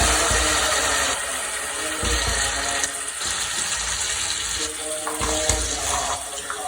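Water is poured into a pan for Punjabi kadhi, a rushing broadband splash that runs in uneven bursts with short breaks, close and fairly loud.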